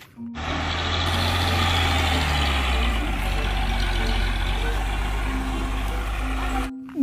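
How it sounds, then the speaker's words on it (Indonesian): A toy tow truck's engine sound runs steadily for about seven seconds, a low continuous rumble with a faint tonal hum, fairly loud and without talk. "Lihat, teman-teman, ada mobil derek."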